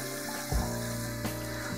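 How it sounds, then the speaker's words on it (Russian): Hot water runs from a tap in a small converted studio flat with a gas water heater, giving a steady, low rushing flow with a slight pump-like hum, fairly quiet and continuous. "если мы включим горячую воду"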